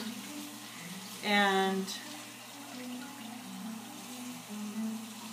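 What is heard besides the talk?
rinsing a whole chicken under a running tap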